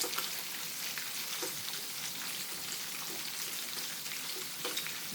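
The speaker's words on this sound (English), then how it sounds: "Look at that bacon sizzle." Bacon sizzles and crackles in a hot frying pan, a close, dense hiss with frequent small pops and spits running steadily throughout without any talking.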